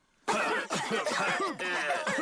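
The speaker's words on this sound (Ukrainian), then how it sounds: "Заразилися кашлем від Педро." A cartoon pig character coughs in a rapid series of loud, close hacking bursts, several coughs strung together with brief gaps, alone without other talk.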